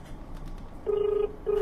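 Telephone call placed over the line: a brief burst of dial tones followed by two steady ringback tones, clear and close against a faint background.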